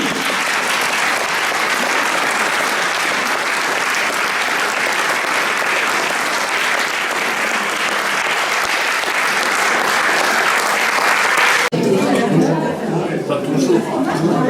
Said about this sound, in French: J'aimerais que vous leur témoigniez le remerciement par vos applaudissements.